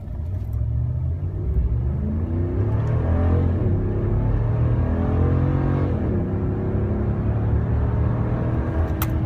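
A 2017 RAM 1500 Quad Cab SLT 4x2 pickup with 3.21 gears pulls hard at full throttle, its engine note rising steadily in a loud, sustained roar heard from inside the cab.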